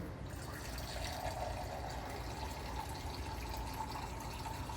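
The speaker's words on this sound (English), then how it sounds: "Filling up a 16-ounce pint glass." Filtered water from a reverse osmosis system runs into a 16-ounce pint glass, a steady, soft pouring hiss and trickle close by with no pauses.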